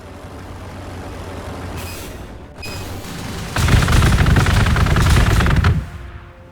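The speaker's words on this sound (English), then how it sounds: "So this is a Thunderfire cannon." Thunderfire cannon firing in Warhammer 40,000: Gladius, a battle sound in which a hissing mechanical burst gives way to a loud rapid barrage of booming shots that stops abruptly, with no talking.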